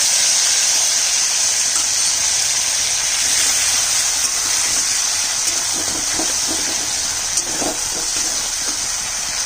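Fenugreek seeds and a paste of mustard and poppy seeds frying in hot oil in a pan, giving off a loud, steady sizzling hiss with faint pops and crackles, no voices.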